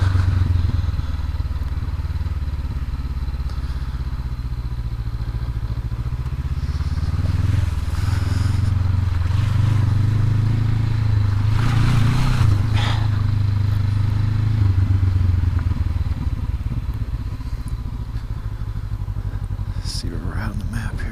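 A stock 2019 Honda CB500X motorcycle rides an off-road forest trail, its steady low engine drone continuous and close throughout, with rattles and clatter from the rough ground and some faint speech mixed in.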